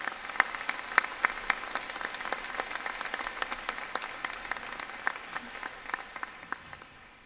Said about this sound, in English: Please join me now for a round of applause for trustees.